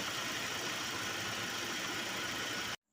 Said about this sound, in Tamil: இப்போ இந்த பென்ஸை வந்து ஸ்டார்ட் பண்ணியாச்சு. வண்டி வந்து ஓடிட்டு இருக்குது.